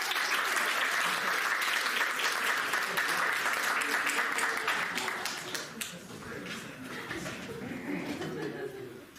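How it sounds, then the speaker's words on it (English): A theater audience applauds at a children's adventure serial show, a dense, steady wash of clapping that runs loud for several seconds, then eases off and thins toward the end. "Let's hear a big round of applause for this."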